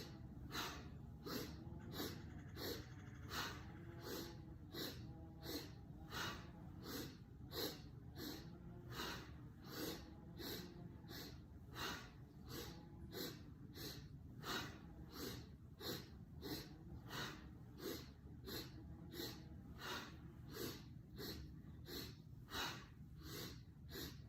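Rhythmic, forceful breaths during a yoga breathing exercise, quick nasal puffs repeating steadily at close range for the whole stretch, fairly quiet and alone without speech.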